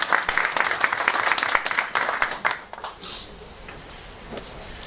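Applause from an audience at a FIERN business forum for Senate candidates in Rio Grande do Norte, a dense burst of clapping that thins out and fades after about three seconds.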